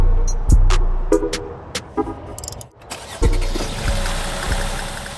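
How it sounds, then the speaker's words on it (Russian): A car engine with a faulty spark plug is cranked and catches, with clicks and knocks before it settles into a loud, steady running rumble close by. "Завели машину, пошли щелчки"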